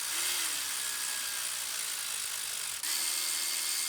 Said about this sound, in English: We'll grab our electric torque wrench and torque them down.